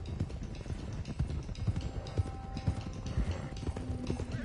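Horses clip-clopping in Red Dead Redemption 2, a steady run of close hoofbeats with rhythmic thuds and an occasional faint whinny, no talking.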